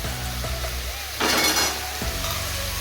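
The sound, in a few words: frying onions with ginger garlic chili paste and cumin in a pan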